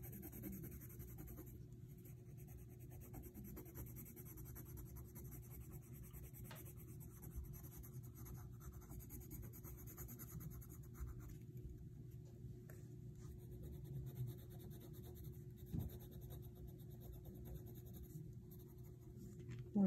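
Soft, continuous scratching of an orange colored pencil shading an autumn leaf on paper, faint and close, steady strokes over a low background hum.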